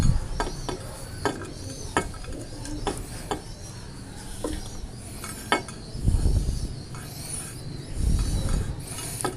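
Oregano and garlic tipped into a boiling pot: scattered light clinks and taps of utensils, a soft steady bubbling underneath, and a couple of low rumbling stirs, close but fairly quiet.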